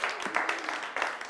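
Morning audience applause at a body language talk, a short stretch of scattered clapping from a modest crowd.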